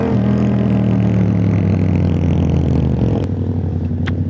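Riding companions' motorcycles, including a CF Moto, roll past in Rojas City with a loud, steady, close engine drone and deep rumble that holds for several seconds, with faint clatter near the end.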